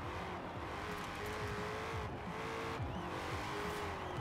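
A rear-wheel-drive Ford Falcon FE with a locked differential spins a tire in Forza Horizon 4, engine droning steadily with a warbling squeal and rising revs, loud and continuous.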